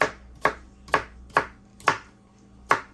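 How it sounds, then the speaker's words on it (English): A knife chops food on a cutting board during an outdoor 4th of July cookout, six sharp evenly spaced strikes about half a second apart, close and crisp with no talking. "Now if you want to just chop it one more time"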